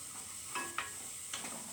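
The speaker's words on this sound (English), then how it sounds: "we indeed saute these onions down." Onions sauté in a pan for tomato soup, a soft steady sizzle with a couple of brief stirring scrapes, faint and close.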